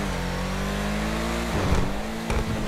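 A BMW M2, the Ubermacht Cypher in GTA 5, holds a steady engine drone and then revs sharply twice near the end, loud and close with no talk.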